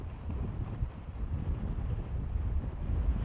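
Strong wind buffets the microphone at an outdoor Space Coast, Florida viewing site for a SpaceX Falcon 9 Starlink launch, a steady low rumbling roar throughout with no talking.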